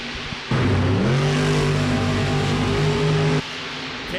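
Monster trucks race on a dirt track, a loud engine roar rising in pitch and sustained for about three seconds before cutting back to a lower drone.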